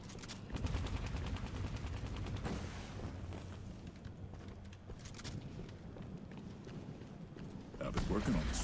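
Rapid machine gun fire in the hero shooter Deadlock rattles close and loud in dense bursts, broken by short gaps, with game sounds and talk mixed in underneath.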